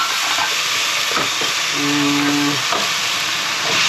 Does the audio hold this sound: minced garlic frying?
yes